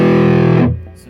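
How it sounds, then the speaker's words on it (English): An electric guitar is played through an amp with a distortion effect engaged for hard rock and metal tones, giving a loud, thick sustained chord that cuts off abruptly after about two-thirds of a second. "you can get a lot more distortion for kind of hard rock metal sounds"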